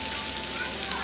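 Chicken shami kababs fry in a hot pan with a dense, steady sizzle and crackle of oil, close and continuous for a brief moment.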